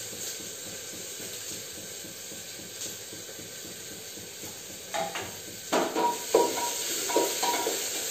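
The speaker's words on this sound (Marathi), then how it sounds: "कढीपत्ते टाकूया." Curry leaves hiss and sizzle in hot oil with onions in a pan, a steady close frying hiss throughout, joined near the end by a few scraping and clinking stirs of a spatula against the pan.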